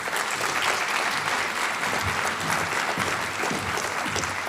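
An audience at a rail symposium applauds as a keynote speaker is welcomed to the stage, with steady, dense clapping filling the hall throughout without a break.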